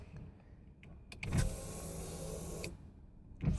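Rear power windows on a 2002 Nissan Sentra Spec V are lowered, a steady electric motor whir lasting over a second with a clunk as they start and stop, close by in a quiet cabin.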